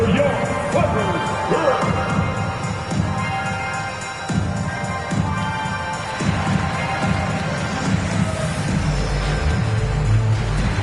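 A basketball arena crowd in a video game cheers for the Clippers as a steady, dense roar of many voices, with an announcer talking over it throughout and a louder rumble near the end.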